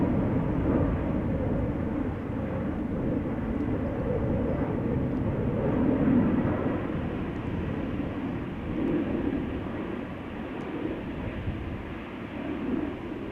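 An Embraer 190 departing Amsterdam Schiphol gives a steady, broad jet roar that swells slightly and holds, heard from a moderate distance with no voices.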